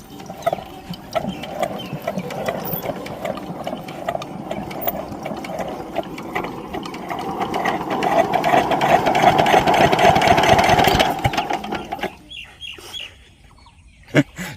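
A shallow irrigation pump engine used to water a rice field cranks repeatedly without catching: a rapid mechanical clatter grows louder and busier, then cuts out abruptly, leaving near silence.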